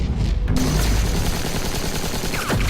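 AK rifle fire in Batman: The Enemy Within, a dense, loud wash of rapid shots and booming impacts filling the whole stretch with no pause.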